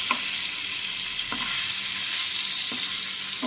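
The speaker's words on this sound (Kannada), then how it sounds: "ಚೆನ್ನಾಗಿ ಫ್ರೈ ಆಗಲಿ." Paneer for matar paneer masala frying in a pan, a steady close sizzle broken by soft stirring scrapes at regular intervals.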